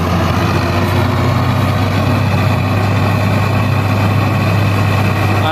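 An old-model Fiat 640 tractor runs an Al Noor chopper machine with a loud, steady low drone and a constant hum, unbroken and close throughout.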